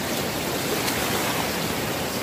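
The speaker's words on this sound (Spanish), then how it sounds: "los que somos del Cantábrico sabemos que aquí las olas son muy distintas" Waves break on the Cantabrian coast between Caborredondo and Comillas along the Camino del Norte, making a steady, dense roar of surf with no pauses.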